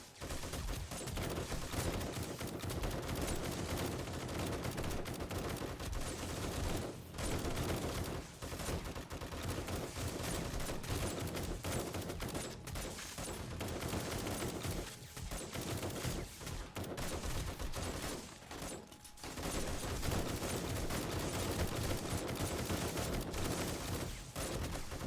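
Automated turrets in 7 Days to Die fire nonstop at zombie mobs, dense rapid gunfire rattling loud and continuous for the whole stretch with only brief dips, no talking.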